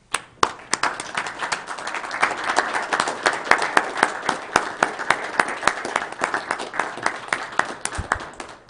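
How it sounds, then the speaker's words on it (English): A room of people applauds at a county commission meeting honouring a citizen, steady close clapping running throughout with a few sharper individual claps standing out near the end. "That deserves a absolute warm round of applause if you join me."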